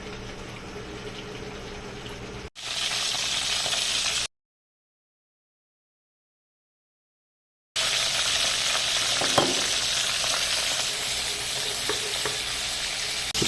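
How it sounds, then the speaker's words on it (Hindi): Okra and onion fry together in a pan with a steady, loud sizzle that runs on and on. The frying breaks off into a gap of silence, then resumes just as dense, with a few small pops and stirring scrapes. "अभी दोनों को एक साथ ही फ्राई करेंगे।"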